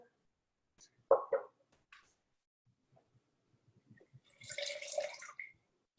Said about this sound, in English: Just pour the lemon juice into the sugar.